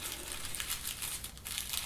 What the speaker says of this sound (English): crumple it up a little bit, and just keep pushing it into the center like this